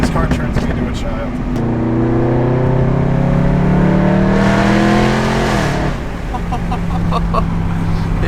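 Engine of a B8.5 Audi RS5 rising in a long loud rev from inside the car, pitch climbing steadily then dropping off, with talk over parts of it.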